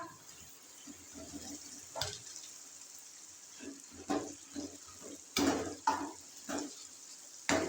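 Chicken gizzards fry in a pan, heard as a faint sizzle broken by several louder bursts of stirring and scraping, close and intermittent, with no one speaking.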